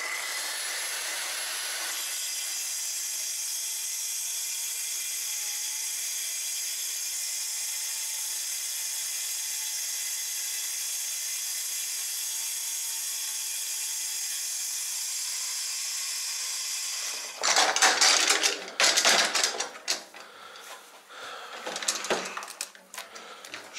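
Saw fitted with a rip-cut blade cutting lengthwise through a wooden board for a mirror frame, a long steady high whine lasting most of the clip, then rougher crackling, scraping cutting noise near the end.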